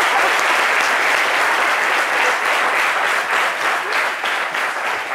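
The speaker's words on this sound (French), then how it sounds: "Applaudissez" Studio audience on a French midday TV show breaking into loud, dense applause that stays strong throughout and eases slightly toward the end.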